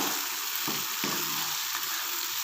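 Urad dal frying in masala crackles and sizzles steadily, with a few stirring scrapes and knocks of the spoon against the pan, close and unbroken, no speech.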